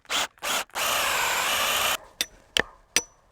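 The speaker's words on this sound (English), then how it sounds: "I'll just drill in this last pin" A power drill bores a hole for a fence brace pin on a double H pasture fence brace, with two short bursts, then a longer steady whine, followed by a few sharp knocks.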